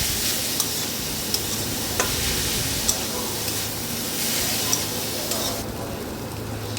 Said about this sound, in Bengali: নুনের পরে দেবো বাঁধাকপি আর কাজের টাকে দিয়ে মেরে নেব